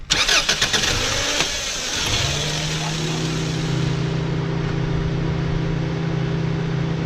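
A Subaru 2.5L engine cranks with rapid clicking churns, catches and settles into a steady, rough idle hum after a spark plug replacement.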